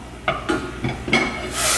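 A pot of choux pastry mixture being stirred briskly, with several scraping strokes against the pan and a soft sizzle beneath, close and moderately loud, ending in a brief hiss.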